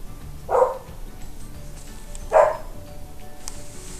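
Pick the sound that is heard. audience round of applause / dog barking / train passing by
dog barking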